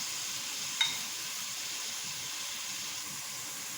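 Plantain sautéing in a pan with crushed ginger gives a steady, even sizzle and hiss that runs on its own without pause, with one brief sharp clink near the start.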